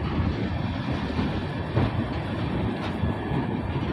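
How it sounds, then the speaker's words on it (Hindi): Rumbling rail noise with clattering wheels runs steadily near a standing electric locomotive, number 777, a loud continuous low roar with no speech. "हमारे पीछे खड़ी है 777 जो कि इलेक्ट्रॉनिक लोकोमोटिव है यार।"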